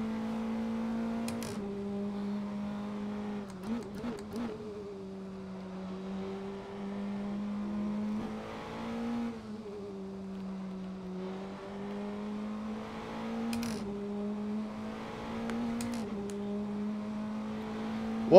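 Praga R1 race car engine at the Nurburgring in a sim racing game, a steady sustained drone that rises and falls gently with throttle and gear changes, with a few brief sharper blips, loud and continuous throughout.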